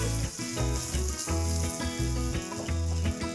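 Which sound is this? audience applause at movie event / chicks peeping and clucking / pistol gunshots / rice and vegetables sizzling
rice and vegetables sizzling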